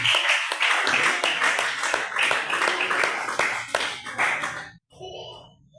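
A church congregation claps along in quick rhythmic bursts, loud and sustained for several seconds before stopping abruptly, with a voice faintly under the clapping.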